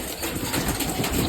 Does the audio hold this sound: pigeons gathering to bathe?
yes